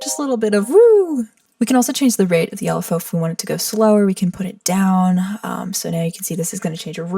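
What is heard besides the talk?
No everyday noises stand out.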